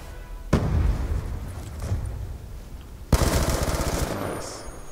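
Automatic gunfire in Black Ops 2 gameplay, two loud sustained bursts of rapid shots with a quieter stretch of weapon noise between them, close and punchy.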